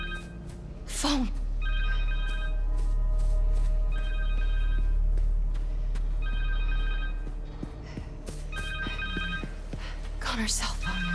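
A cell phone rings in the Marvel's Spider-Man 2 video game, its electronic ringtone repeating in several evenly spaced bursts over a low ambient drone, with sharp noises breaking in between.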